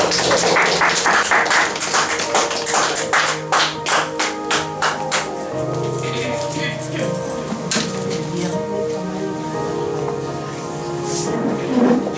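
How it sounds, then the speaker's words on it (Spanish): A church congregation claps together in a quick, even rhythm, loud and close, then the beat loosens into scattered claps with music and voices underneath and a few louder claps near the end. "Denle un aplauso, Señor."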